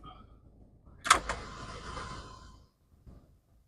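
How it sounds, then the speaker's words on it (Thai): Power sunroof on a 2021 Mercedes-Benz E200 Coupe AMG Dynamic sliding open, with a sharp click followed by a smooth electric motor whir lasting over a second inside a quiet cabin. "ซันรูฟ"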